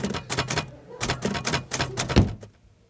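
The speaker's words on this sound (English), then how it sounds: "the sound of typing in background during conversations is most annoying" Typewriter keys clatter in quick irregular bursts with a carriage-like thunk near the end, fairly close and steady for a few seconds before stopping, with faint voices underneath.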